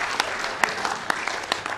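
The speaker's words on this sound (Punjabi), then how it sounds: "ਜ਼ਰਾ ਖੁੱਲ ਕੇ ਤਾੜੀ ਮਾਰੋ" Scattered audience claps at a Pakistani Punjabi stage comedy show, a few sharp hand claps popping out over a steady hum of crowd noise, moderately loud but thin rather than a full ovation.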